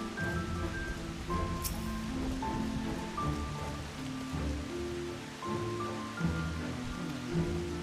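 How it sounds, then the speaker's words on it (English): Steady rain patters in the Final Fantasy XIV video game. It is a soft, continuous hiss of drops that stays quiet under a melodic game music track and never stops. "Gonna have rain in our next little bit here."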